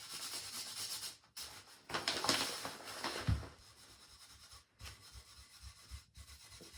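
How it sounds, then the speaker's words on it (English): Fine 4/0 steel wool is rubbed over gilding on a thrift store find, giving quiet, uneven rasping strokes in bursts with short pauses between them. "So we are going to take 4/0 steel wool and we are going to now start to antique the gilding"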